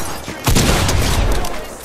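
Shotgun fire in the Fortnite video game, a loud, close burst of shots packed into under two seconds over busy game noise.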